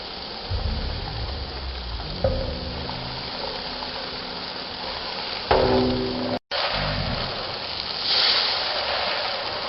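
Steady hiss and bubbling of mung beans frying in a pot for Uzbek mosh kichiri, with occasional scrapes and clanks of a utensil, close and continuous.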